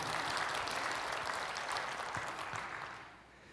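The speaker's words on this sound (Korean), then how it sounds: "박수 한번 해줘요." Applause from a church congregation during a sermon, steady dense clapping that fades out near the end.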